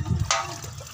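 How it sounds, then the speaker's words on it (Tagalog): Water is poured into a container for growing azolla, a short splashing gush that starts abruptly and then settles into a softer trickling fill, close and fairly loud. "lagyan muna natin ng tubig"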